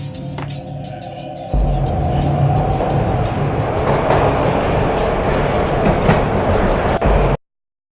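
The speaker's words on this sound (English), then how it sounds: "This was my second train ride of the night." A train rumbles and rattles along the tracks in the video game Max Payne, the loud clickety-clack of wheels building suddenly and holding steady before cutting off abruptly.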